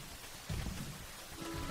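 Steady rainfall in the PS3 game Rain, a dense hiss of drops striking surfaces with a low rumbling swell partway through, fairly faint and continuous from start to finish.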